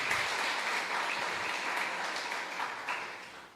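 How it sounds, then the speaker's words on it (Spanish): A church congregation applauds during a Spanish-language service, producing a continuous, fairly soft patter of many hands clapping that holds steady for several seconds before slightly thinning toward the end. "Si le va a aplaudir, apláudale bien fuerte."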